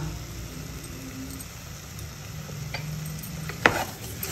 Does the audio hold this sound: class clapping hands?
no